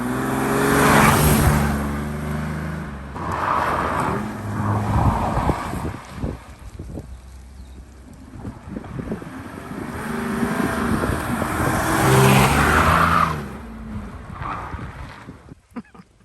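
A Mercedes 300d diesel car revs and accelerates repeatedly during an agility driving test, its engine surging and easing in loud waves mixed with wind buffeting the microphone.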